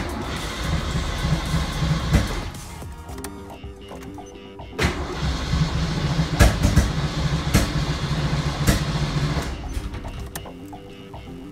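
A Ford Mustang GT40 E303-cammed V8 in a Foxbody build, throttled by hand at the throttle body, runs with a rough, lumpy idle under a few sharp revs and clanks, close and moderately loud.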